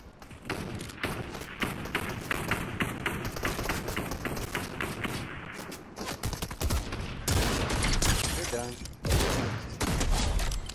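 Gunfire in a Fortnite No Build squads match: dense, continuous volleys of shots and thuds, close and loud, running without pause for the whole stretch.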